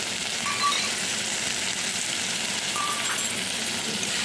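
Sour yogurt poured into a hot pan while cooking doi begun gives a steady, soft, hissing sizzle that runs evenly throughout, near and fairly quiet, with no voices.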